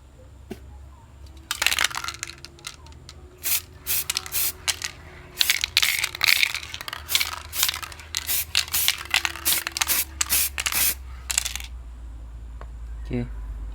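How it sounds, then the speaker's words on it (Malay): Aerosol spray can laying flat black paint onto motorcycle screws at close range, heard as a run of short sharp hissing bursts in an uneven rhythm over a quiet background. "Dah agak kering tu, kita spray lagi."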